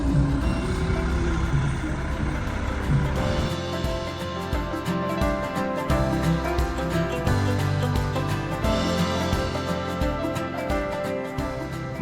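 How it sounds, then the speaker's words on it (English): A concrete truck and a concrete pump truck pull in at a construction site for a pour, with heavy engines rumbling steadily and reversing beeps sounding under people talking. "That is a concrete truck."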